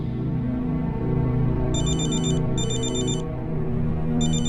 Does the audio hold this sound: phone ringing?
yes